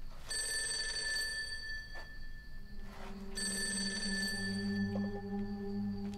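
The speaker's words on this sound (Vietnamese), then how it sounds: "Có điện thoại cái Jin kìa." A phone rings in the video game MADE: Interactive Movie, a steady electronic trill that pauses briefly and resumes, fairly quiet, with a low hum joining underneath later and no talk.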